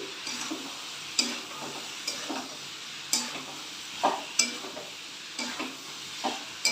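Jackfruit sautéing in a pan gives a steady sizzle, broken by regular scraping knocks of the stirring spoon about once a second, close and fairly soft, with no talking.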